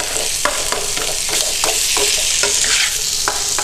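Shrimp pasta with olive oil and rosemary sizzles briskly in a pan while a utensil scrapes and stirs in quick, repeated strokes, close and alone with no talking.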